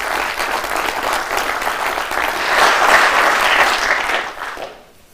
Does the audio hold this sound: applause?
yes